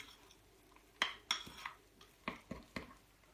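Protein brownie batter with cocoa and baking powder being stirred in a bowl, a utensil scraping and clinking against the dish in a loose series of about seven knocks, close by and with no talking.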